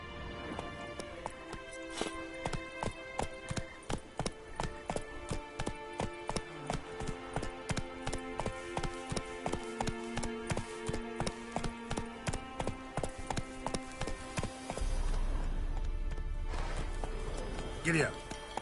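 Roach, a horse in The Witcher 3, gallops with steady rhythmic hoofbeats under game music and speech. The hooves fade near the end as a low rumble takes over.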